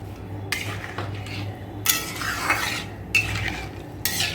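Ginger, green chili, salt, turmeric and sugar are mixed in a pot with a metal utensil, giving repeated scraping clinks and stirring knocks against the pot over a soft background hum.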